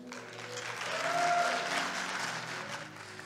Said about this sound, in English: let's give our bishop a hand